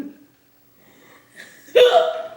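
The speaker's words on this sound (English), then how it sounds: "They're hiccups." A person hiccuping: a faint short sound at the start, then after a quiet stretch a sudden sharp, voiced hiccup that rings out loud and close near the end, followed by a short vocal sound.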